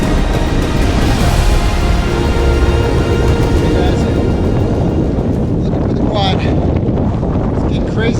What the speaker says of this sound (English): Crazy windy up there,